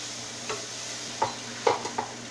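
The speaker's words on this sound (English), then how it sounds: "Yeah, keep on stirring." Onions fry in a pot as a base for jute mallow (molokhia), a spoon scraping and stirring in a few soft clinks over a steady low sizzle.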